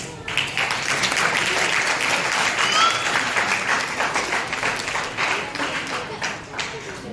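An audience at an evening program for Sri Sathya Sai Baba's 99th birthday celebration in Ujjain claps loudly and steadily. The dense applause keeps going for several seconds with little change.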